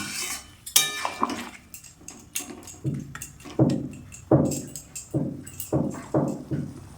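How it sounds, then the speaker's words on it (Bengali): A spoon scrapes and knocks against a pot while stirring a prawn and spinach curry after water has been added, with a rhythmic series of close metallic clinks and taps. "উষ্ণ গরম জল দিয়ে দিলাম, দিয়ে নেড়ে দিলাম।"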